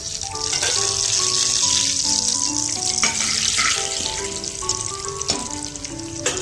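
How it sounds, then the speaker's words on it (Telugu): Spices sizzle and crackle in hot oil with a steady hiss, while soft background music plays underneath. "నేను ఇక్కడ ఈ పోపు అనేది దీంట్లో వేస్తున్నాను."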